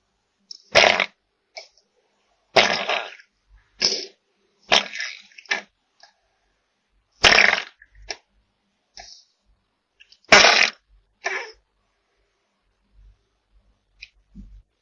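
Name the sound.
baby ball python farting, expelling gas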